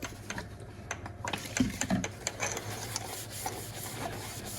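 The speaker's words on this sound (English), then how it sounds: "I'll just kind of keep rubbing at it" A cloth being rubbed along a knife blade to wipe off residue, giving close, repeated scratchy rubbing strokes with small ticks and clicks in an uneven rhythm, no voices.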